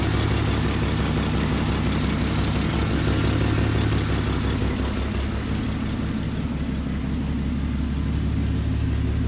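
A 1968 Pontiac Firebird Sprint with a four-barrel carburetor, factory dual exhaust and a small exhaust leak idles close and loud, a steady, unbroken engine rumble with a slight drop partway through.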